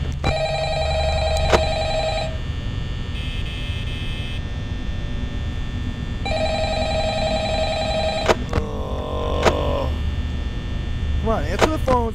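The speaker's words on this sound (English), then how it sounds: "Answer the phone so I can fucking mute you." A telephone rings repeatedly in the Five Nights at Freddy's video game, with bursts of electronic ringing separated by pauses over a constant mains hum, followed by a few sharp clicks and brief noises near the end.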